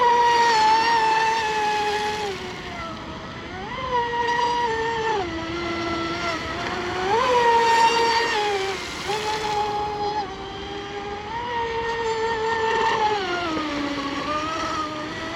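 Seaducer SD3 FE-30 mono-hull RC boat with a 1700 kV electric motor on 6S power, its high whine holding steady and rising and falling in pitch as it throttles through runs and turns, loud and continuous.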